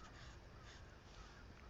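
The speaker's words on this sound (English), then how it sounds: "Crows. I hear the crows out there." Faint crows caw in the distance outdoors, their calls thin against steady wind rustling through trees, with no voices.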